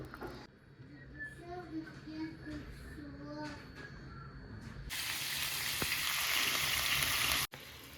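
Meat frying in a pan: a voice talks over faint kitchen noise at first, then a loud, close, hissing sizzle takes over and cuts off abruptly near the end.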